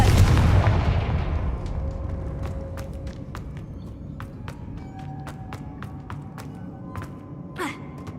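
A Confringo spell blast in Hogwarts Legacy, a loud burst that fades into a long decaying rumble, followed by scattered sharp ticks and light steps.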